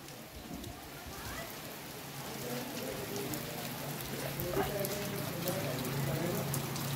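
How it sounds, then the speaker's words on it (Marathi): Steady rain falls in a continuous, moderately quiet wash at a village Ganesh festival in Konkan, with faint distant voices and low murmurs mixed beneath the patter. "पाऊस पडता पटापट पटापट"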